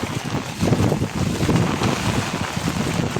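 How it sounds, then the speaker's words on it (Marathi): Strong monsoon wind gusts over an umbrella in the Konkan countryside, a loud continuous rushing roar with buffeting against the microphone and a hiss of rain, with no voices. "छत्रीतून वारा पाऊस आहे तो भिजवूनच टाकतोय"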